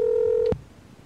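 A telephone keypad tone holds steadily, then cuts off abruptly with a short click, alone and close with no voices.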